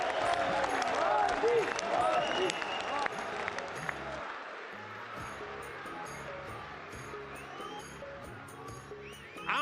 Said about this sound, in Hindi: मैं करूं तो क्यों ताली बजाते हो?